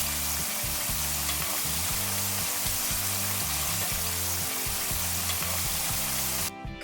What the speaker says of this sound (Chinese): 土豆片经过油煎已经变得相当薄了